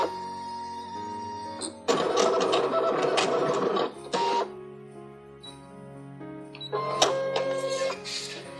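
A ScanNCut electronic cutting machine cuts a saved pattern from a mat, giving a close, steady mechanical whirring and stepping hum with tonal motor whines, pausing briefly and then resuming in a second burst.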